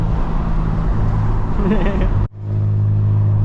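BMW E46 engine roaring loud in a street-drifting video game in the rain, a dense close revving drone that cuts off abruptly and settles to a lower hum, with voices talking over it.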